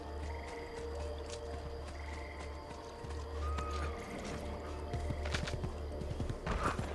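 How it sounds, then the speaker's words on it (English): Horse in the video game Assassin's Creed II, with faint hoof clip-clops and a brief whinny amid game ambience and birdsong, fairly quiet and in the background. "Horse right here."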